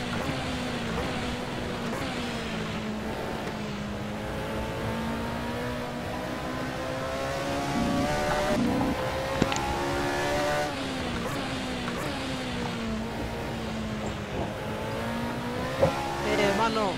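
Rear-wheel-drive race cars in the racing video game Race 07 hold a steady droning engine note, pitch rising and dropping through gear changes, with someone talking over the engines.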